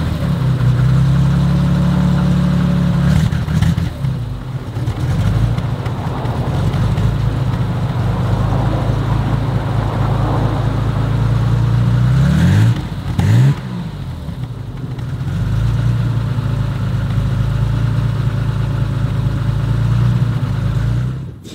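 A BMW E30 325i with a Supersprint exhaust idles with a deep, steady burble, then rises in a few throttle blips and revs before settling back to idle, loud and close throughout.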